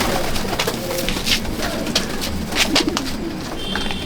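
Madrasi pigeons at a loft in Liluah, Howrah, coo continuously and close by, with layered soft throaty calls and occasional wing flutters and clicks, with no speech.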